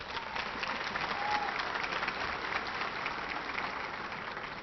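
Audience clapping at an awards ceremony in Atlanta, a steady dense wash of hands held at even loudness for several seconds, with a faint voice briefly audible underneath.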